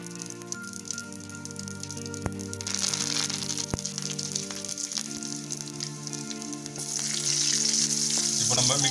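Loud, crackling sizzle of mustard seeds and curry leaves frying in hot oil for tomato chilli chutney, with a couple of sharp pops and a hiss that intensifies toward the end.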